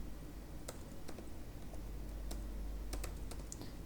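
Code being typed on a computer keyboard during a Laravel 11 programming session: scattered, irregular keystrokes, close and fairly crisp, over a steady low background hum, with no talking.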